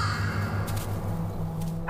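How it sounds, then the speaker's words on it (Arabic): Crow calling, a hoarse caw or two heard over a steady low background rumble, short and moderately near. "الغراب هو طائر انتهازي ذكي يتربص الحيوانات الأصغر والأضعف ليجعلها طعاماً له"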